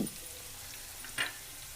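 Onion and coarsely crushed garlic fry in a pan with a soft, steady sizzle and one brief crackling pop, fairly quiet and without voices.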